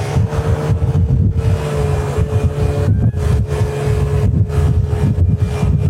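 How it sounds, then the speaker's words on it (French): Wind roaring against the microphone while riding a BMW C1 scooter, a loud continuous buffeting rush with the engine droning underneath and gusty dips in intensity. "Niveau vent, c'est franchement ok. Oh, le vent. Oh, le vent."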